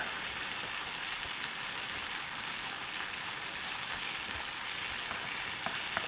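Chopped steak sautéing in a hot pan with herbs, a steady close sizzle and crackle of frying that holds evenly throughout with no talk over it.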